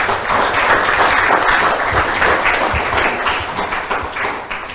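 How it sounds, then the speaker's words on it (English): A debate audience applauds, a dense burst of many hands clapping that holds steady and then gradually thins out toward the end. "Ladies and gentlemen, please give them a big round of applause"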